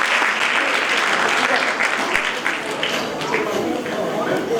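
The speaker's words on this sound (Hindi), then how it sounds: "थोड़ी थोड़ी सी तालियां आप सबकी तरफ से होनी चाहिए।" Applause from an audience at a college gathering, dense continuous clapping from many hands at a fairly loud, even level throughout, with no pause and a faint hint of crowd noise beneath.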